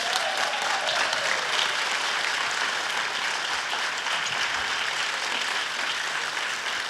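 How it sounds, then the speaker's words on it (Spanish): An audience claps enthusiastically in a sustained, dense burst of applause that stays steady and loud from start to finish. "quiero pedirles que se paren y que se aplaudan"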